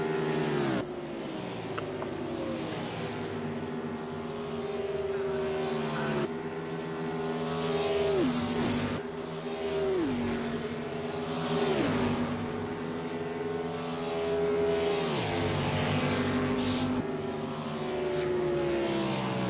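Race cars from a racing video game roar around Daytona in a steady, loud engine drone whose pitch climbs and drops repeatedly with gear shifts, with no talk over it.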